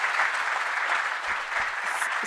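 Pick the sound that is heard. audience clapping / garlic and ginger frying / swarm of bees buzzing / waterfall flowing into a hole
audience clapping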